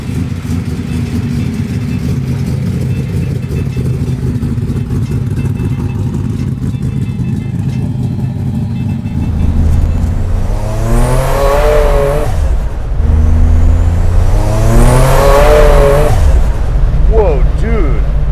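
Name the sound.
1000 whp Buick Grand National engine driving off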